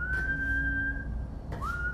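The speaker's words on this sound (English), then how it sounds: "I see you practice your whistling." Game character whistling in Far Cry 5: a sustained clear whistled note, a short pause, then a second rising whistle, close and alone without talk.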